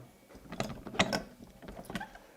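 The Sana EUJ-828 slow juicer is pulled apart by hand, giving a few close plastic clicks, snaps and scrapes in an uneven burst of handling noise.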